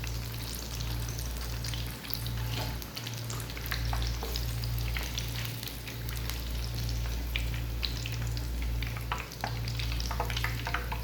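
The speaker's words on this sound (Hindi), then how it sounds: "बस इस तरह हम सारे इनको फ्राई कर लेंगे" Pakoras deep-frying in hot oil make a dense, constant crackling sizzle with sharp pops, over a steady low hum from the stove, no speech.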